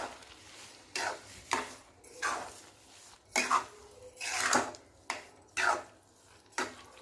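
Carrot halwa stirred in a pan after sugar goes in, heard as repeated scraping strokes and soft thuds of a spoon against the pan, close and rhythmic with short pauses between strokes, no talking.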